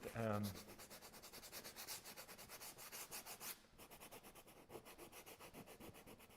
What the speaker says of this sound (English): my trusted sandpaper and soften some of these edges here